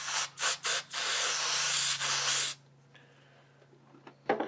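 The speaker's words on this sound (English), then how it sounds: "I'm just going to spray it." Lubricant spray hits the pin of a squeaky bedroom door hinge in short bursts, then a long steady hiss of over a second, close and loud, followed by quiet handling and a final short spurt.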